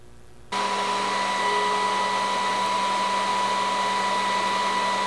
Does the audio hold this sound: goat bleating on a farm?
no